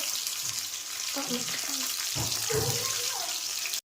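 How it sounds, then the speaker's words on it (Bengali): Steady sizzling of chopped tomatoes frying in hot oil in a wok fills the clip, with a few clinks and scrapes of a utensil near the end before it cuts off. "কড়াইয়ে তেল গরম করে দিয়েছি, এবার টমেটো কুচি দিয়ে দেবো।"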